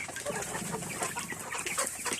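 Several chickens cluck and squawk in overlapping bursts, close by and fairly loud, with no talking.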